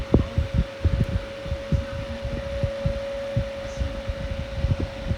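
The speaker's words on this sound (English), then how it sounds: "The only thing I like about this is that it's got that loud humming sound." An electric fan runs with a loud, steady hum, with a low, irregular thumping rattle pulsing underneath it, close by.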